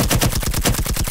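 Rapid automatic gunfire from the video game Firewall Zero Hour, a loud, continuous string of closely spaced shots that runs through the whole moment with no talk over it.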